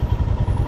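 A motorcycle engine on a Sikkim road trip throbs close by in a steady low, pulsing rumble that runs through the whole short moment.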